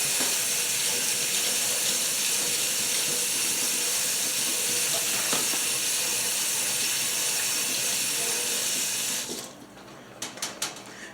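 Sweet potatoes are rinsed under a kitchen tap, with a loud steady gush of running water that stops abruptly near the end, leaving a few faint clicks and knocks.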